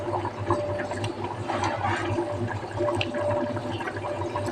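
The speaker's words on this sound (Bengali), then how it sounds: "উপরে থেকে বুন্দিয়া ঢেলে দিলাম" Fried boondi pours from above into a simmering potato curry broth, giving a soft, continuous watery bubbling and splashing. The sound is quiet and close, with no talk over it.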